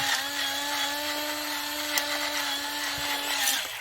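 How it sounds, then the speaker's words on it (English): Electric pepper grinder cracking peppercorns for a cucumber salad, a steady loud motorized whine with a gritty grinding texture running continuously for a few seconds, close up. "Yes, I've got a fancy pepper grinder."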